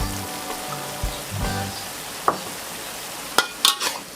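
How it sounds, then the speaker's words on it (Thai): Tofu and bean sprouts are stir-fried in a pan, with a soft crackling sizzle and a few spatula scrapes and taps, ending in a quick cluster of sharper clacks. "ผัดให้เข้ากัน"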